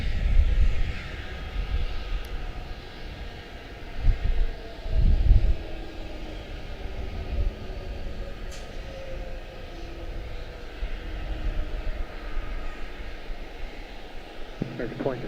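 Airbus A321 airliner arriving at Charlotte-Douglas airport, its engine roar a steady distant rumble that swells briefly, mixed with radio chatter and scattered voices.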